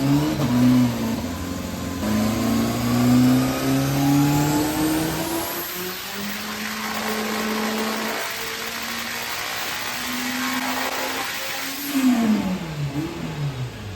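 A boosted Renault 5 engine revs hard on a full-power dyno pull, its loud rising and falling note climbing through the gears with shifts and a sharp surge near the end, with no talk.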